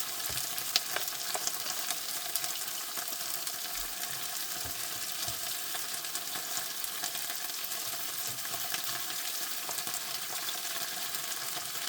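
Shrimp noodles frying in a pan, a continuous close crackling sizzle with light stirring scrapes throughout, no voices.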